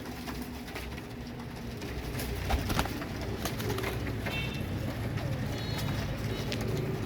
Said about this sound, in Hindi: ये कलदुमा कबूतर है, वाइट कलदुमा